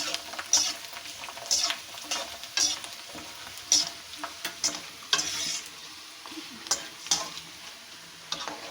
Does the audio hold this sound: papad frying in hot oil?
yes